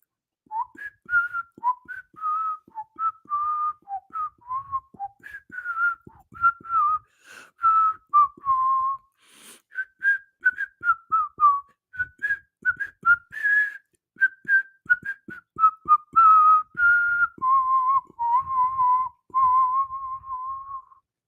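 Someone whistles a long melody solo, a steady run of quick, close notes in lively phrases with short breaths between them, ending on a few held tones.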